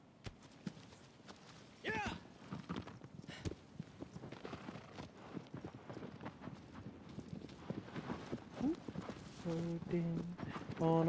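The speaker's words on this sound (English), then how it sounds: "Oh, horsey, go." Hooves from a horse galloping in the video game Shadow of the Colossus, a quick run of clip-clop beats with a short whinny, partly under someone talking casually over the game.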